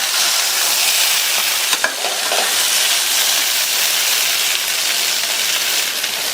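Plantain pieces being stir-fried and turned with a wide spatula make a loud, continuous sizzle close up, like heavy rain, with a couple of brief knocks of the spatula midway.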